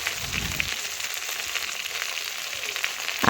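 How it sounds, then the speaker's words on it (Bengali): Potatoes frying with salt, turmeric and red chilli powder on a clay wood-fired stove: a steady close sizzle with a brief low stirring scrape near the start and no talk. "ভালোভাবে আমি এখন একসাথে মিশিয়ে মশলার সাথে আলুগুলো একটু ভেজে নেব"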